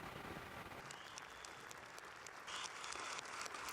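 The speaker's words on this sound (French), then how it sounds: "Gianni Infantino, seul candidat en lice, est réélu par acclamation au congrès de la FIFA." Delegates at the FIFA congress applaud a re-election by acclamation, a sustained, even hall applause that swells slightly toward the end, heard from a distance and fairly faint.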